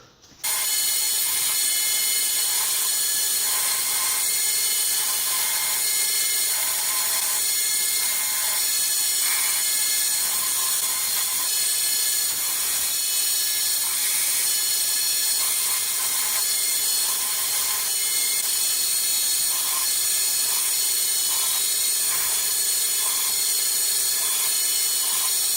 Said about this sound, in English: let's go back to grinding